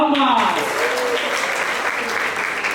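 Applause from a live audience at a church night show café, greeting two musician brothers on piano. Sustained even clapping follows the host's announcement and carries on steadily under fading voices.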